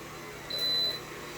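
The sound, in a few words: vacuum cleaner beeping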